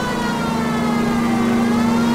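A police car siren sounds in the video game L.A. Noire, set in 1940s Los Angeles: a loud, steady, unbroken tone held close by, over low engine rumble.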